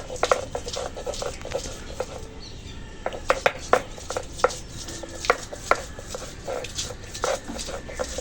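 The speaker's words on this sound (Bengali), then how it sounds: "মাংস রান্না হবে ওই জন্য আদা রসুন বাটছি" Ginger and garlic are ground into paste for chicken curry, heard as repeated sharp knocks and thuds of stone or utensil striking at an uneven pace, close and clear, with faint kitchen clatter between hits.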